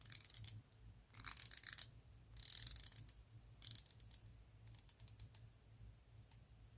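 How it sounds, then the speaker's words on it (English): Unidirectional tungsten bezel on a titanium dive watch with meteorite dial being rotated, giving bursts of fine, crisp ratcheting clicks in several short runs separated by pauses, close and quiet with no talking. "Then we've got the tungsten unidirectional bezel. ratcheting, of course."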